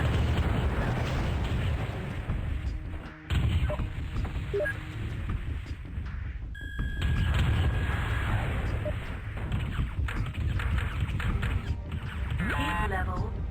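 Enemy mech blowing apart in the MechWarrior 2: 31st Century Combat game, a loud booming explosion with crackling debris running for several seconds over steady combat rumble, with a computer voice announcing status.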